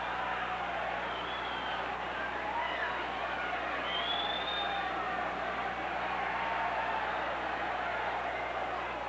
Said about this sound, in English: The crowd alive, as you can hear.